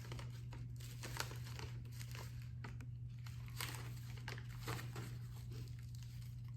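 Tissue paper crinkles and rustles in soft, repeated bursts as it is glued around a handmade Cinco de Mayo piñata, close and steady under a low constant hum.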